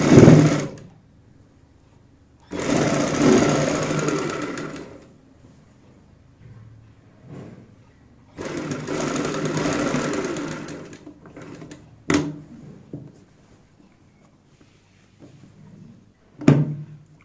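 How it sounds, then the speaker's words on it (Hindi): A sewing machine stitches buckram onto a kurti neckline in bursts of steady whirring, two long runs separated by pauses, with a few short thuds and clicks from handling the fabric. "अब हम बुकरम के साथ साथ सिलाई लगाएंगे"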